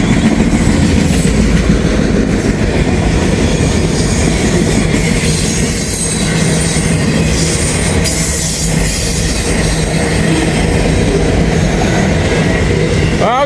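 Freight train M561, with a bad bearing, rolls past loud and close in a continuous roar of wagons and wheels, with rail clatter throughout and a brief wheel squeal near the end.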